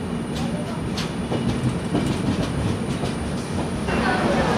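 The 12284 Duronto Express pulls into Aluva station, heard from inside an AC 3-tier coach: a steady, heavy rail rumble with faint clicks and rattles that swells slightly toward the end, with no talking.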